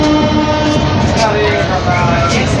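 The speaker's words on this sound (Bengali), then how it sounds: "আমাদের ট্রেন শালিমার স্টেশন ছেড়ে দিল" Samarsata Express pulling away from Shalimar station, a steady broadband rumble of wheels and carriage noise with tonal squeals and hums running continuously at close range.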